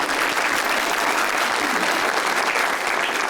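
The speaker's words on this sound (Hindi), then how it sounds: "उनके पीछे वाले ने जो ताली बजाई है ना" Studio audience applause on an Eid special talk show: dense, steady clapping that holds at an even level for the whole stretch, close and full, with no talking over it.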